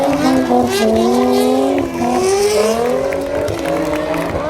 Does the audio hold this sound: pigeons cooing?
no